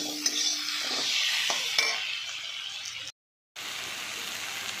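Pakal fish coated with turmeric, chili powder and salt is stirred in a hot pan, giving a steady broadband sizzle with light scraping, briefly cut to silence near the end before the frying resumes.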